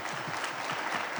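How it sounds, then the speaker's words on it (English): An afternoon audience at a Global Citizen event in Johannesburg claps warmly, a dense, steady patter of many hands at moderate distance with no pauses. "Give them a big round of applause"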